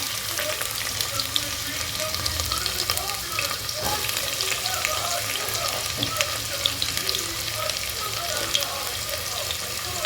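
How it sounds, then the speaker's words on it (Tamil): Onions sauté in hot oil with fennel and cloves in a pan, giving a steady, loud, close sizzle that continues without a break, with faint voices underneath. "வெங்காயத்தோட பச்சை வாசனை போகிற அளவுக்கு நல்லா வதக்கிக்கலாம்"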